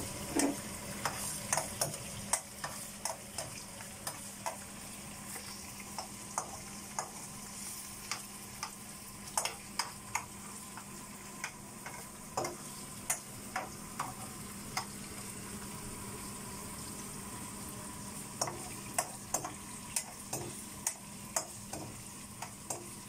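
Garlic frying in a pan, a steady soft sizzle with frequent sharp crackles and spoon-against-pan scrapes and taps scattered throughout; no voices.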